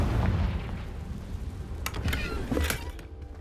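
The Confringo explosion spell goes off in Hogwarts Legacy, with a low rumbling blast followed by a few sharp, crackling bursts at moderate loudness.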